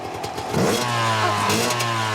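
A motorcycle engine idles, then revs up sharply, a close, loud burst of throttle that holds a raised, rough drone for about a second and a half.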